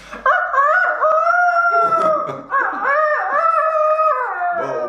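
A person's voice imitates a rooster crowing, drawing out several strained, wavering cock-a-doodle calls in a row, loud and close.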